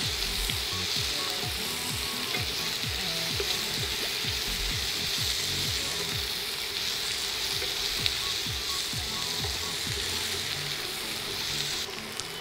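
Capsicum and onion fry in a pan, a steady bright sizzle that runs unbroken at even loudness. Repeated scraping strokes from a spatula against the pan sit underneath it.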